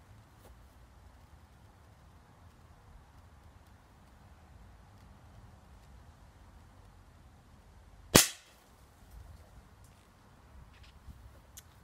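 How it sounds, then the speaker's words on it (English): A single sharp gunshot cracks once after the breech is closed, loud and close, standing alone in an otherwise quiet stretch with faint ambient noise. "Get ready to fire."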